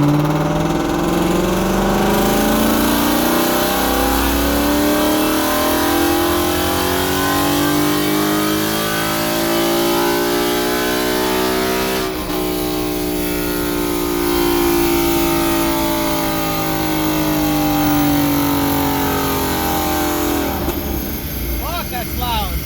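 A 2015 Mustang GT 5.0 with a 6R80 transmission and free-flowing exhaust roars on a dyno, its engine climbing steadily and loudly toward 8,000 RPM in one long continuous pull, close and dominant throughout.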